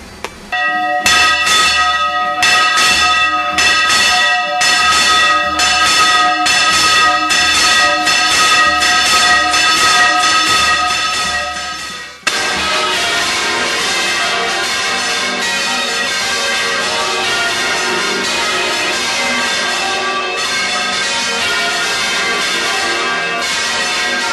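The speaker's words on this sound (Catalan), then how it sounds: "Aquesta campana és la campana dels Àngels." A church bell in Albaida, the Àngels bell weighing 102 kilos, rings loudly in repeated, evenly spaced strikes, then the clanging blurs into a dense, continuous wash of overlapping bell tones.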